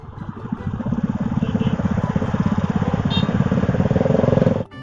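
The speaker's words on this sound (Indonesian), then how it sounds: "Tuh yang depan motor tuh bising kali suaranya tuh." A motorcycle engine runs steadily up close, a loud throbbing, pulsing rumble that holds throughout and cuts off at the end.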